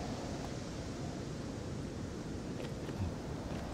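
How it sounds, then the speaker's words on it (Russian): Wind blows across a snowy landscape in the survival game Rust, a constant, loud, rushing roar that fills the whole stretch without pause, with no voices. "Да тут еще этот ветер долбанный воет."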